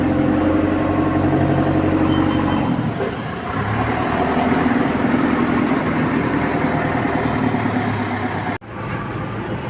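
A ten-wheel truck in the Philippines idles steadily with a deep, continuous rumble, close and loud throughout, with faint background noise and a brief dip near the end.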